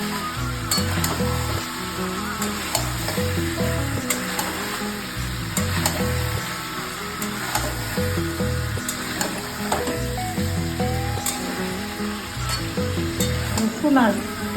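Spices for mutton curry fry hard in a pressure cooker, a steady loud sizzle broken by repeated scraping stirs and clanks of a utensil against the metal pot, running continuously close by with no talking.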